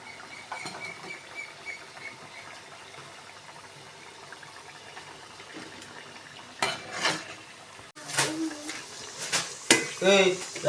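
Coconut jaggery vadas frying in oil, a low bubbling sizzle that turns busier with clattering of utensils and pan scrapes in the second half, while someone talks over it.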